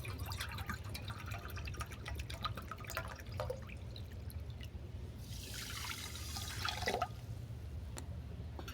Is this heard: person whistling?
no